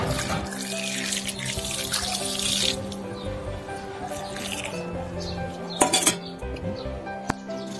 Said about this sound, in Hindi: अब इसमें हम वाटर डाल देंगे।